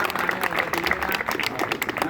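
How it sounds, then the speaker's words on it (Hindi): Audience at a Hindi poetry gathering (kavi sammelan) claps steadily in a brief, dense burst of applause, with voices faintly mixed in. "अब तो ताली बजा दो।"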